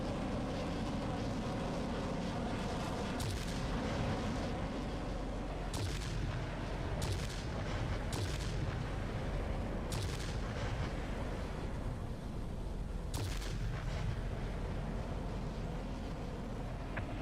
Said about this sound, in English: It's a vicious sounding cannon.